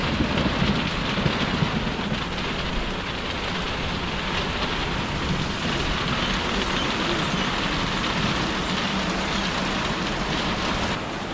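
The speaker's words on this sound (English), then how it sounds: "Oh, lightning. It's the lightning." Heavy rain pounds steadily on a surface during a thunderstorm in the Dolomites, a dense, loud, unbroken hiss with low rumbling underneath throughout.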